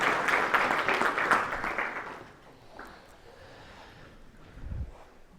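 An audience claps loudly to welcome a guest speaker, a dense burst of applause that lasts about two seconds before fading to quieter scattered sounds.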